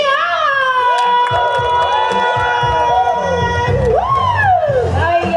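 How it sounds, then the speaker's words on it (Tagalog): Crowd at a national peace rally cheering and shouting loudly, voices whooping over a dense, continuous crowd roar, with scattered claps and a prominent sung or yelled melodic line on top. "Isang masigar pong palakpakan at hiyawan!"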